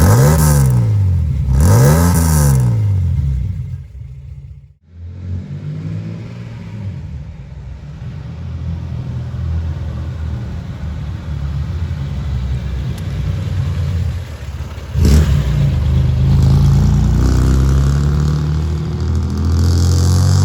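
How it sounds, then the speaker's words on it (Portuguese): A 1987 Chevrolet Opala Diplomata driving with its engine revving, a steady loud rumble with a sharp rising burst near the start, a brief drop, then sustained engine drone and another surge later. "andar num Diplomata 87 é sempre um momento especial"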